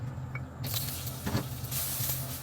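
Butter hits hot oil in a pan with a sudden sizzle and hiss that swells and carries on steadily, close by, with no talking.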